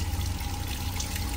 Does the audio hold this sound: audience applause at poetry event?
no